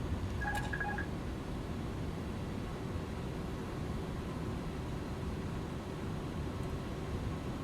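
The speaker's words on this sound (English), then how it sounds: "Okay, we're over the middle marker." The middle marker beacon sounds in an airliner cockpit on approach to Kai Tak as a brief pair of high beeps near the start. A steady loud hiss of engine and airflow noise runs throughout.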